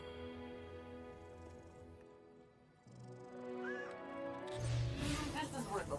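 A cat meows a few times, faint and brief, over game music and background hum, with a voice briefly addressing it.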